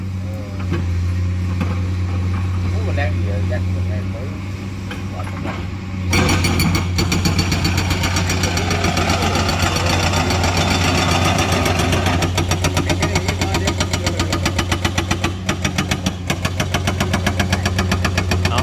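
A Komatsu PC200-8 excavator fitted with a hydraulic rock breaker runs loud and close, its engine droning steadily before the breaker starts a rapid, continuous hammering that carries on to the end with no talk.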